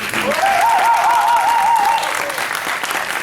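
A crowd claps and cheers steadily, loud and dense, with a whistle rising above the applause near the start.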